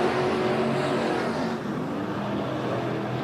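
IMCA Sport Mod race cars roar around Bakersfield Speedway during a heat race, a loud continuous engine drone that swells slightly as cars pass, with no one speaking.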